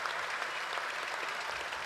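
Steady, dense applause from a large convention audience, loud and continuous throughout with no pauses or voices.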